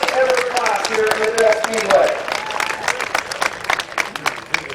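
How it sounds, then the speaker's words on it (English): Crowd applause at Midvale Speedway, dense clapping sustained through the whole stretch, with a voice talking over it early on. "How about a big round of applause for her?"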